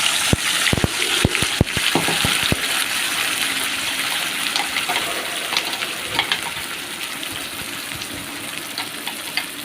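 Ground tomato paste for tomato chutney is poured into a hot pan of oil tempered with mustard seeds, urad dal and curry leaves. Sharp splattering pops come first, then a steady wet sizzle that fades gradually.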